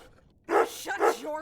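A dog in the horror video game Remothered: Broken Porcelain barks twice, close and loud, in quick succession, while a voice speaks over it.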